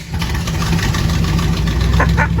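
Corvette running on a freshly installed side-pipe exhaust, a loud steady engine rumble close by, idling then swelling slightly as if pulling away, with no talk over it.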